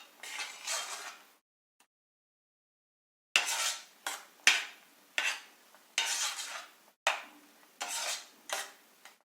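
A spoon stirs saffron almond kesari in a pan, scraping in repeated bursts of about a second each, separated by short pauses and one long silent gap, close and fairly quiet.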